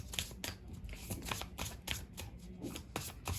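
Tarot cards are shuffled by hand close up, a quiet run of soft flicking riffles and slaps repeating in an uneven rhythm.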